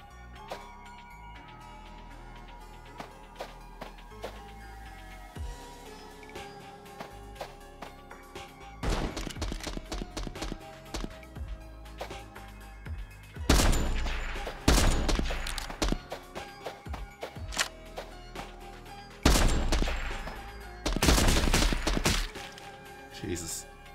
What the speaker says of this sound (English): Maybe the submachine gun wasn't the best idea.